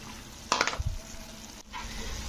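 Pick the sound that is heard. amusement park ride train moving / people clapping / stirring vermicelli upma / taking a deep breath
stirring vermicelli upma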